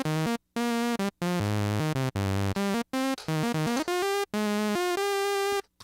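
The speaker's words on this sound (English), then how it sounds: "a real Roland SH2 from 1978 sounds like this" Bright, buzzy sawtooth tones from a 1978 Roland SH-2 analog synthesizer playing a series of held notes, each cut off sharply by short silences, loud and rich in overtones.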